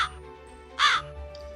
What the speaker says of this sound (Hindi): अरे तो कौवे की काऊ काऊ आवाज कहाँ से आ रही है भैया?